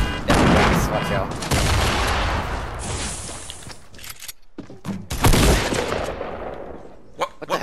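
Dense bursts of rapid gunfire in the Fortnite video game, loud and close, with broadband crackling volleys that pause briefly and resume, while voices talk over the shooting.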